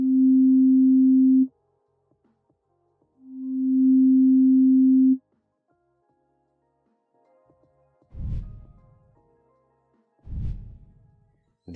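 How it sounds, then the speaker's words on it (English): Pure synth tones, the first starting abruptly, then one swelling in slowly with a long attack fade-in like a pad. Two short low thumps follow, all clean and isolated. "when it is set higher, it adds some sort of fade-in effect, which makes the sound like a pad or a violin for the most part."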